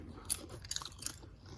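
Close, quiet crunching and biting on homemade popcorn coated in butter, salt and honey, with three or four crisp bites spaced across a soft chewing background.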